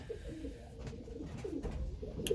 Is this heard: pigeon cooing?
yes